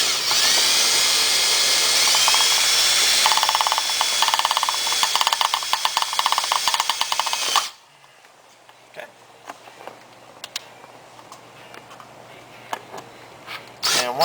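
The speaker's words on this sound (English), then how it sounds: "using your drill, just go in, use the Phillips bit on the far inside one there" A power drill fitted with a Phillips bit bores through a floor beside a center console, running loud and steady with a grinding whine for several seconds, then stopping abruptly, leaving only faint handling clicks.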